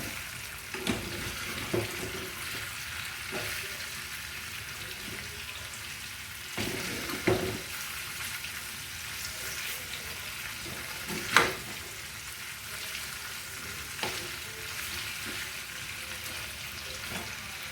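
Eggs fry in a pan for egg biryani and get flipped to the other side, with a soft, even sizzle and a few spatula scrapes and knocks, one sharper clatter near the middle.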